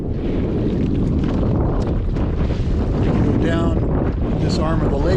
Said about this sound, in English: We are slowly sailing.